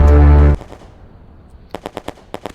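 Battle of Stalingrad gunfire effect: a loud burst opens, then fades into a quiet rumble, followed by a quick run of sharp, distant-sounding gunshots, with no talk.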